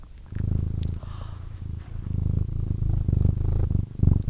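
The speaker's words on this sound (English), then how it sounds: "Oh, she's really purring too." A pet cat purrs steadily up close after being washed and conditioned, the low rhythmic rumble pulsing continuously and loudly with only brief pauses and no talk over it.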